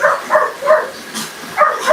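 Dogs yip and bark in repeated short bursts at close range during a late-night feeding, with a brief hissing sound in between.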